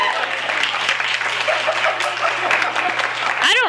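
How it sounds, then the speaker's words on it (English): An audience at a book reading bursts into dense, steady applause that fills the room, ending as a voice begins to speak. "That's applause."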